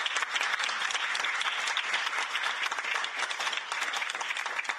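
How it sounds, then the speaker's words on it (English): Audience applause at the close of a rural development conference, a steady dense clapping from a room of people that continues evenly throughout without speech. "can I have a round of applause, please,"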